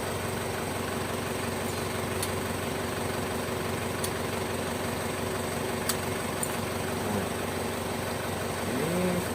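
An Isuzu Panther diesel engine idles steadily with the ignition key switched off, a continuous low rumble holding even throughout, with a few faint clicks over it and no talking.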